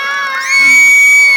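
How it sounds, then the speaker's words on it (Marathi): A crowd at a public gathering in Alibag, Raigad district, cheering and shouting, a loud brief burst of voices that swells and holds strong. "पुन्हा एकदा टाळ्या."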